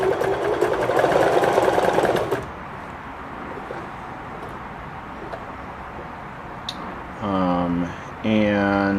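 A Kenmore sewing machine stitches a full-width zigzag in a steady, rapid mechanical chatter for about two seconds, then stops, leaving quiet room tone with a couple of brief faint clicks and short whirring bursts near the end.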